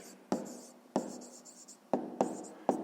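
A pen writes a math answer by hand on paper, in a series of short, sharp scratching strokes with brief pauses between them, close and fairly quiet.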